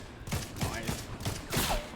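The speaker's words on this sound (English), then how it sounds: "Oh, being sniped at, being sniped at." Sniper rifle shots in an online multiplayer shooter, five or six sharp cracks at a steady, fairly quick pace, each with a short rumbling tail, loud and close with no talk over them.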